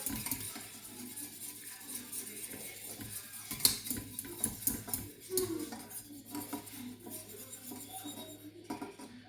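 A utensil stirs and scrapes a mixture in a bowl, making soft, uneven clinks and swishes close by with no talking.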